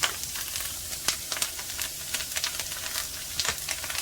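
Meatless ground jerk taco filling sizzles steadily in a hot pan while a spoon stirs it, sending irregular crackles and pops over a constant frying hiss, close up and with no voices.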